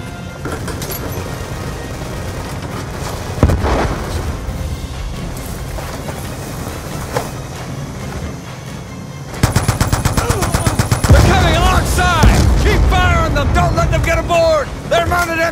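Machine guns on gunboats fire in a Call of Duty battle on the water, with scattered shots followed by a long, loud burst of rapid automatic fire, mixed with engine noise and shouted voices.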